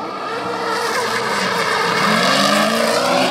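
A drift car revs hard near redline as the driver clutch-kicks at high RPM, engine howling loud and continuous with tire squeal rising through the pass during pre-season drift testing.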